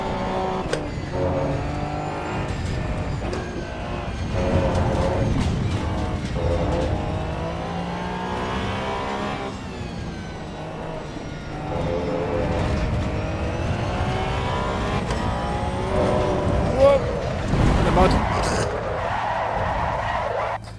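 A race car engine in Assetto Corsa Evo screams near redline, rising and falling through gear changes with tyre squeal mixed in, loud and sustained throughout.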